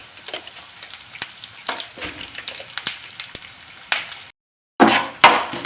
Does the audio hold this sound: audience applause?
no